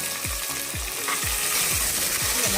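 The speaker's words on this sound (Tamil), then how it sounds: "எல்லாத்தையும் நல்லா வதக்கி விட்டுருங்க." Vegetables, beans and soaked tomato being sautéed in oil for vegetable biryani, with a steady sizzle and about five regular low scraping strokes of a spoon through the pan, close and clear with no talking.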